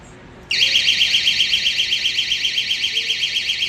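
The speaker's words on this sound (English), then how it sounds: "Let me do a pull test and see when the alarm actually goes off." A Temu alarm triggered by a pull test bursts on abruptly after a quiet moment, then keeps blaring as a loud, shrill, rapidly warbling electronic siren that pulses steadily without pause.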